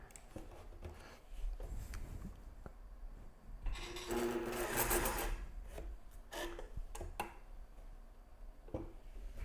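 A sewing machine stitching fabric, its whirring runs steady and fairly quiet, broken by brief clicks and handling sounds, with one louder burst of stitching in the middle.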